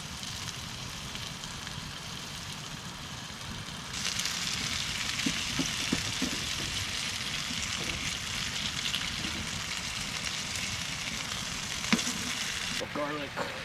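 Potatoes frying in a pan at a hot tent camp on an island in the Upper James River: a steady, close sizzle that turns louder partway through, with a few faint knocks and clinks.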